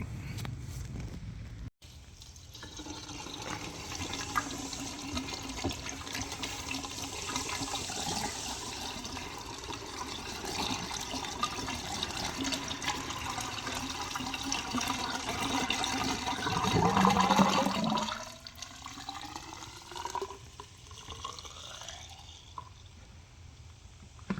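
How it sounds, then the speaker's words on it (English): Engine oil drains from a Mercedes ML 350 during an oil change, a steady continuous trickle close by that grows heavier, then thins and breaks into lighter splashing toward the end. "Still on a steady drip."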